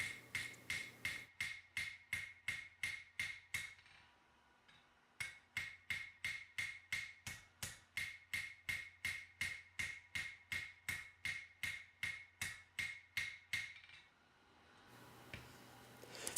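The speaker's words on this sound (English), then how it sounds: "I'm going to clean them up with my small hammer to true everything up and get everything straight and even" A small hammer rings on a forged steel throwing knife, truing the bevels in two long runs of quick, evenly spaced metallic taps with a short pause between, close up and alone.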